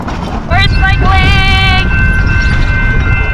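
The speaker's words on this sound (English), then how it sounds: "We're gonna go pedal down a railroad track." A railbike pedalled down a railroad track through the redwoods on the Skunk Train line near Fort Bragg gives a steady, close rolling rumble, with high squealing tones and excited voices rising over it early on.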